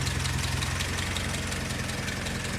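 A Willys Jeep engine, restarted after sitting unused for 15 years, idles steadily and loud up close, a continuous low rumbling drone with a fast pulsing beat and no talk over it.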